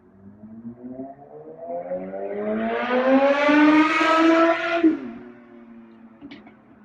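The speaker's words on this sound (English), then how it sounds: "Loud cars spooked him." A loud car engine revs and rises in pitch as it approaches, peaks, then drops away as it passes and fades.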